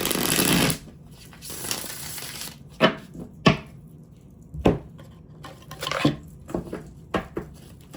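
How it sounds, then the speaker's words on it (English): A deck of cards being shuffled close up, a long riffle followed by several sharp slaps and taps as the cards are squared and handled. "These are hard to shuffle."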